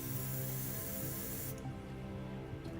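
An airbrush being cleaned blasts leftover paint out in a continuous loud hiss that suddenly drops to a quieter, duller spray about halfway through, with a brief sputter near the end.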